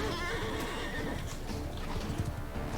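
A horse neighs in the medieval combat game Mount & Blade 2 Bannerlord, with hooves clip-clopping underneath during a mounted fight, fairly close and moderately loud.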